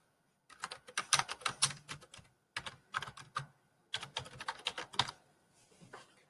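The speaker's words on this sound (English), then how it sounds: "So where I'm typing these 3 bullet points." Computer keyboard typing in three quick bursts of clicking keys, with short pauses between them, close and fairly clear.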